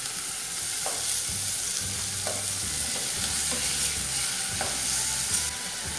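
Chicken with seedless tomato sizzles steadily in a frying pan, with several distinct scraping stirs of a utensil breaking through the constant crackle; no one speaks.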